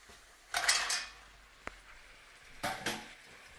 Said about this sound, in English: Alright, so now we're going to add our mussels to the pot.